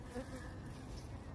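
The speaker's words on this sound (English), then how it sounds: "Looks like we're gonna fight some bees here to get this Maria Rosa pollinated." Bees buzz close by around a blooming Maria Rosa dragon fruit flower, a steady droning hum that rises and falls slightly over a little more than a second.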